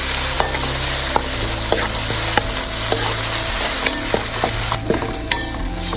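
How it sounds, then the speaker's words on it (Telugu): Ginger garlic paste sizzles in a hot pan for chicken pulao, with a loud continuous frying hiss punctuated by repeated sharp clicks and scrapes of a spoon stirring against the pan. "ఇప్పుడు ఒక స్పూన్ వేసుకొని బాగా పచ్చి వాసన పోయే వరకు వేసుకుందాము"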